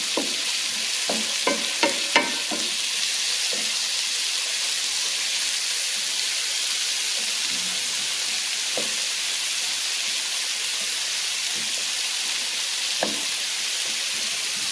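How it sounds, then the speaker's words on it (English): Onions sauté in bacon grease with a dense, even crackling sizzle throughout, marked by a few early knocks and occasional soft scrapes of stirring. "sauteed onions and bacon grease"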